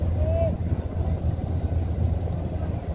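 A multi-deck river launch, the Karnaphuli 13, running on the Meghna river, heard as a low, steady engine drone with a brief higher whine early on, under continuous wind-like rumble.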